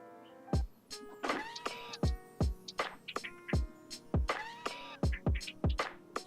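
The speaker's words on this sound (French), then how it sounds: "c'est pas dur à percer, hein, mais j'y vais tout doucement." A drill works slowly into a foam model of manga-style rocky mountains, its motor whining in about a dozen short, close bursts with brief gaps between them.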